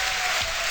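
A Dota 2 tournament crowd at The International 2013 cheers and applauds in a loud, dense wash of noise during a brief moment of excitement.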